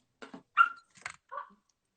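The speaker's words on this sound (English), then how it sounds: "there's a dog in here" A dog in a room gives several short whimpering or yipping sounds in separate bursts, close by and fairly quiet, with no talking.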